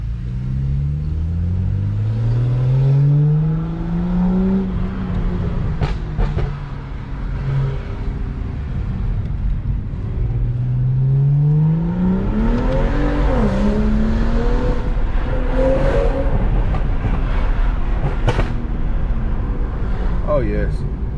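A BMW E92 335i with the N55 engine and a Burger Motorsports intake making hard pulls, revs sweeping up repeatedly with a loud rumbling drone and intake roar heard from inside the car, with voices talking over it.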